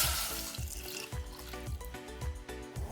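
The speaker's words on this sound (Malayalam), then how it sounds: "ശർക്കര നന്നായി തിളച്ച് വന്നിട്ടുണ്ട്." Powdered jaggery dissolved in water bubbles steadily in a pot on the stove, a close, continuous simmering burble with soft pulsing pops and no voices.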